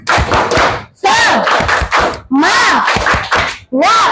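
A classroom group performs a rhythmic clapping chant: bursts of sharp claps alternate with shouted voices in a repeating pattern, loud and close.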